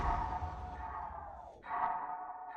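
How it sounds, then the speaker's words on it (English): Transitional swell rising into a riser in an FL Studio beat, a broad airy wash that dips briefly near the middle and then builds back in, sustained and fairly loud with no voices. "What we have is a swell into a riser that's kind of more of a transitional sound you can hear here."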